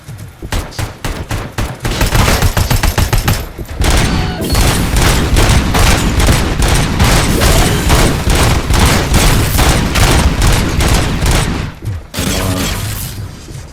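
Sustained, loud gunfire in the RoboCop Rogue City video game: dense rapid-fire bursts that rattle on almost without pause, with a short break near the start and another near the end.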